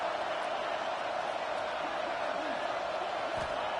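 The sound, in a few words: home crowd roaring in College Football 26 video game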